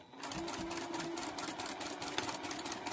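Close by, a sewing machine stitches through fabric and batting on a scrappy quilted pot holder with a fast, even mechanical chatter that holds steady for the whole stretch.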